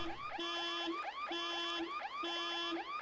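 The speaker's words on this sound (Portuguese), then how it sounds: "Se vocês pudessem só desligar essa alarme desse carro" Car alarm sounding with a repeating electronic wail and a steady tone in a looping pattern, cycling about three times, loud and clear with no talking.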